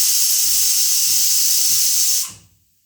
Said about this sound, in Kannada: ಇದನ್ನು ಕುಕ್ಕರ್ದು ಮುಚ್ಚಳ ಮುಚ್ಚಿಬಿಟ್ಟು ಒಂದು ವಿಷಲ್ ಮಾಡಿಸೋಂಥದ್ದು.